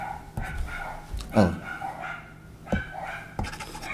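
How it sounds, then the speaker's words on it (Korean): Two dogs kept on a rooftop give a few separate barks and yelps, moderately near, with someone speaking in between them. "오늘도 수석이와 합격이가 열심히 짓고 있습니다."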